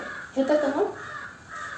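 Crows caw in a short, moderately faint burst of harsh calls near the start, then the scene settles to a quiet outdoor background.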